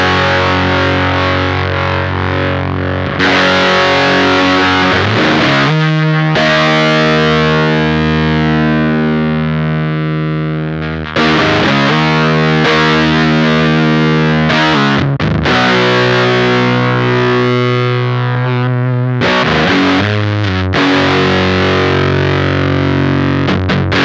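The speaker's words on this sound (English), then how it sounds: "we're actually starving the voltage from those transistors to get that starved fuzz sound" Heavily distorted, sputtering fuzz guitar through a voltage-starved transistor fuzz pedal plays sustained chords and notes, choppy and gated as they decay, loud and up close.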